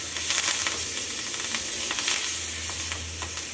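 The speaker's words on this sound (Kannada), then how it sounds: "ಸ್ವಲ್ಪ ಇಂಗು ಮತ್ತೆ ಒಂದು ಎರಡು ಬಾಡಿಗೆ ಮೆಣಸಿನಕಾಯಿ ಮತ್ತೆ ಸ್ವಲ್ಪ ಕರಿಬೇವು ಇದನ್ನ ಸ್ವಲ್ಪ ಫ್ರೈ ಮಾಡ್ಕೊಂಡು" Asafoetida, a couple of dried red chillies and curry leaves crackle and sizzle in hot oil while being stirred, a steady close frying hiss with scattered pops and no talk.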